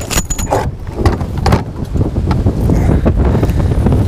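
Strong wind gusts of about 16 miles an hour buffet the microphone with a loud, rough rumble that swells and stays steady, with faint clinks now and then.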